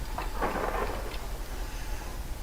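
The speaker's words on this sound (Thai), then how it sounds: "เสียงฟ้าร้องนี่แบบสะใจจริงเลย" Thunder rumbles inside a haunted manor in the horror game Kraven Manor, a low, steady roll with a brighter crack early on, fairly loud and heard alone without talk.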